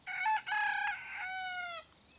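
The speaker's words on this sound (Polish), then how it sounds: "Witam Was mój kogutek." A rooster crows once nearby, a loud drawn-out call with a brief break before the long falling finish.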